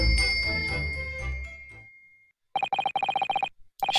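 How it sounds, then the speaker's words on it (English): A bell cord is pulled in a video game, setting off a fast, bright ringing bell in quick repeated bursts after a fading musical phrase and a short silence. "Yes, it's a bell cord."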